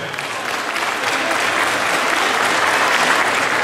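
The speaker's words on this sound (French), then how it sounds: "On peut applaudir." An audience at an Asian festival event in Bussy-Saint-Georges gives a steady round of applause, dense, close clapping that stays loud for several seconds.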